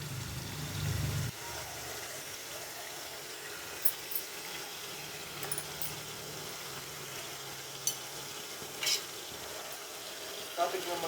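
Whole quail are stirred into a large pot of Kada mandi biryani, with a soft continuous sizzle and scraping stir, faint and close, broken by a few sharp metallic clicks of the spoon against the pot.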